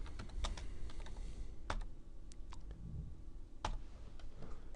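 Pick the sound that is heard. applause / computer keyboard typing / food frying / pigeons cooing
computer keyboard typing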